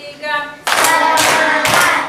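A classroom clapping routine of counted hand claps: after a soft spoken lead-in, the group produces loud, crisp clap bursts in a quick sequence of about three beats, close and dense.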